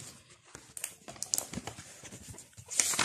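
Plastic shrink-wrap on a new textbook crinkling in soft, irregular bursts of close-up rustles, growing louder toward the end, with no talk.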